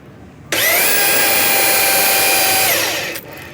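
A General Pipe Cleaners Flexi Rooter 100 drain cleaner spins its shaft at a trade show, a loud close high-pitched whine that holds steady for about three seconds before winding down and cutting off.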